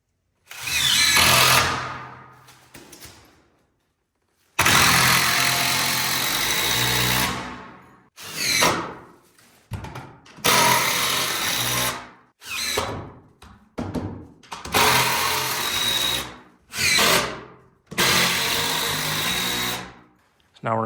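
Power tool driving 6-inch structural purlin screws into a post frame garage interior, a series of loud bursts of whirring and grinding, some long and some short, broken by pauses.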